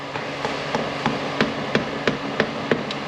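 Sharp metallic taps, about ten evenly spaced strikes, as a socket is used to knock an AW30-80LE automatic transmission's shift linkage back into place, close and fairly loud in a quiet workshop.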